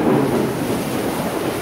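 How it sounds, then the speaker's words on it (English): Thunder from a lightning storm rolls as a loud, continuous low rumble over steady rain, close and heavy throughout the short stretch. "Wow, big lightning."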